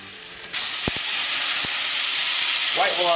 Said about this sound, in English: White wine of your choice will deglaze that pan.